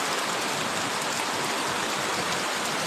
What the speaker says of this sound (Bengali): কার ওদিকে বৃষ্টি পড়তেছে